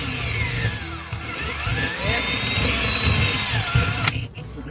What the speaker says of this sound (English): This installation requires a 7/8 inch drill bit.